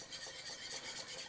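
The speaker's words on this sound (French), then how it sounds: "À l'aide d'un fouet, on va mélanger les deux." A whisk stirring lemon juice and cream in a saucepan for a lime tart crémeux, a soft steady rhythmic scraping and swishing, close and alone.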